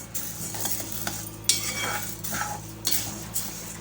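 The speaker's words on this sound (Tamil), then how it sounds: "பருப்பு கொஞ்சம் வாசனை வர அளவுக்கு செவக்க வறுபட்டு வரணும்" Lentils dry-roasting in a pan are stirred with a utensil, giving repeated scraping strokes and light clinks over a faint background hiss, close and moderately quiet.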